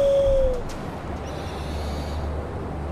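An owl hoots once in the Far Cry Primal video game, a clear tonal call at the start that fades quickly, then a low steady game ambience.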